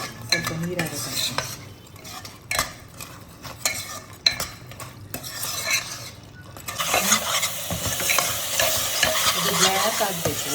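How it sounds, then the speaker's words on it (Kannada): A sweet jaggery mixture fries in ghee while being stirred and mashed in a pan, giving loud continuous sizzling with repeated spoon scrapes and clinks that grow denser and brighter toward the end. "ಅದು ತುಪ್ಪ ಬಿಡುವವರೆಗೆ ಈ ಥರ ಫ್ರೈ ಮಾಡ್ತಾ ಇರ್ಬೇಕು"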